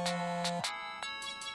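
Cartoon phone ringtone from an animated show, a bright electronic trill with a low tone that cuts off, then further short chirps, close and alone with no talk.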